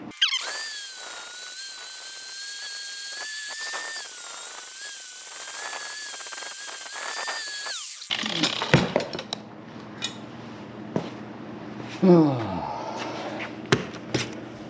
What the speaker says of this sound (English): I like to go right to the flap disc.